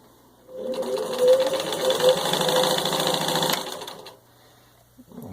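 A vintage 1945 Singer 15-91 sewing machine runs at steady speed through thick denim, a close rapid mechanical chatter lasting about three seconds before winding down to quiet.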